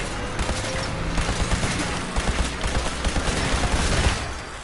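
Rapid gunfire at an Assaultron robot in the video game Fallout 4, loud, close bursts of shots in quick succession filling the whole stretch, with a few heavier booms mixed in.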